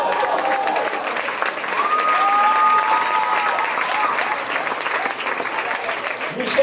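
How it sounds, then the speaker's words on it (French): A comedy show audience applauds steadily for several seconds, a dense wash of clapping with a few cheers and voices mixed in. "On applaudit très fort."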